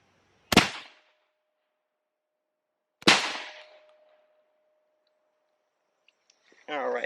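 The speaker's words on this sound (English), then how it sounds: "shoot that steel target again, and just see what 2 shots of the frangible rounds will do on spread" Two loud frangible 12 gauge buckshot blasts fired at a steel target, spaced about two and a half seconds apart, each with a metallic ring that lingers; brief voices at the end.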